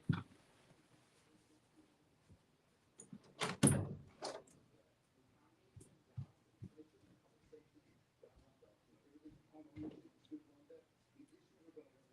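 Someone at the front door of a home produces soft knocks, thumps and a door handled in the distance, faint and scattered, with a person talking quietly nearby.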